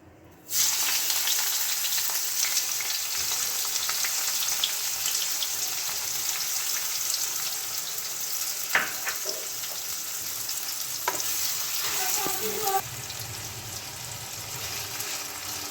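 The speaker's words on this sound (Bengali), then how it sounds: "আমি আলু ভাজার তেলটাতেই পেঁয়াজটা ভেজে নেব।" Chopped onions fry in oil left over from frying potatoes, a steady, close, bright sizzle that crackles on without a break, with a few faint clinks and stirring scrapes near the end.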